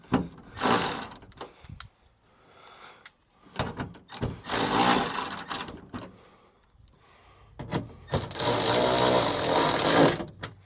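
Bolts on the rear wiper motor of a 2005–2010 Honda Odyssey are tightened down by hand with a ratchet, giving bursts of close, rapid clicking and mechanical rattling separated by short pauses.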